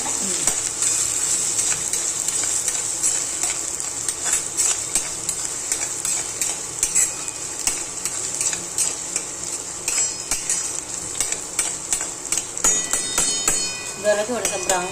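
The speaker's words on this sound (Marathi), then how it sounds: "चांगली फोडणी देऊन घ्यायची लसूणची" Garlic tempering for misal, sizzling in hot oil while a utensil repeatedly knocks and scrapes the pan, close and busy, with bursts of clatter toward the end.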